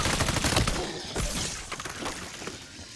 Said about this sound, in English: Use my blank gun.